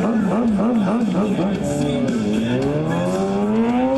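A street bike at a stoppie contest in Hazard, Kentucky screams past fast and close, its engine note wavering, then dropping in pitch as it passes, over crowd noise.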